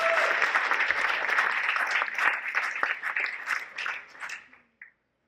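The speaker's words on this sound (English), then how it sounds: "Make noise, give it up, give it up, give it up." A crowd at an Ignite Talks event applauds as the next presenter walks up. The clapping is loud and dense, then thins out and fades over a few seconds until it stops.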